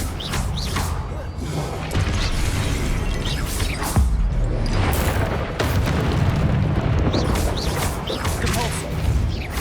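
Levioso levitation spell cast during Hogwarts Legacy combat, a dense, continuous roar of magical booms, crashes and creaking mechanisms filling the whole stretch at steady loudness.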